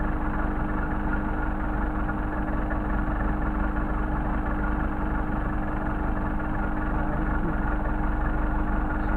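A Mercedes 190SL engine idles steadily on Solex carburetors with a low, even hum and a constant rumble nearby. The tone stays uniform throughout.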